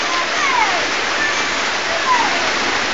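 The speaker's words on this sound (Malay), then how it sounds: "Suasana hujan di kampung aku lah." Steady rain falling in a rural Malaysian village during fruit season, a dense continuous wash of rainfall that stays loud and even throughout, with faint whistling tones drifting over it.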